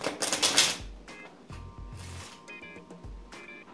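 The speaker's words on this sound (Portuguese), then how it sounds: "posso dar uma embaralhada, embaralhar um pouquinho" A deck of playing cards being cut and shuffled during a card magic trick, heard as a burst of dense riffling followed by several short papery flicks and taps, close and fairly quiet, with no one speaking.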